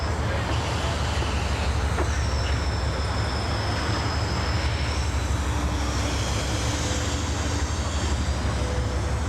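A continuous loud rumble of an Amtrak Auto Train at Lorton in 2001, with steady roaring noise, a faint high whine running through it, no pauses throughout.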